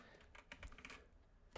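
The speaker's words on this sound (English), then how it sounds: "sometimes I have issues typing" Typing on a computer keyboard during game development work in Unity: a brisk, uneven burst of close key clicks over a low background hum, with no voices.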